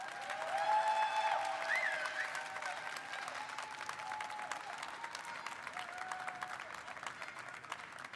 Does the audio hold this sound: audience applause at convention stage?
yes